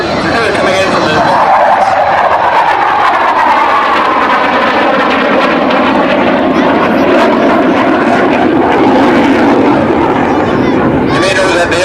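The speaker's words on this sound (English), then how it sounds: "The aircraft is now being slowed down to perform a slow-speed 67 wing flight past." Tornado jet aircraft, carrying 15 Reserve Squadron markings, flying a slowed-down, low-speed past at an open-day air show: a loud, continuous jet roar that swells and shifts in pitch through the pass while a commentator talks over it.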